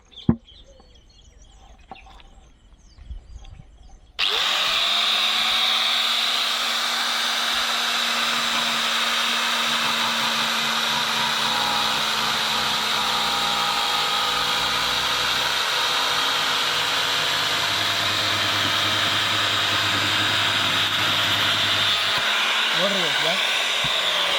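A spinning paper disc cutting into a coconut, a steady loud whirring grind that starts abruptly after a few seconds of quieter handling and holds unbroken to the end.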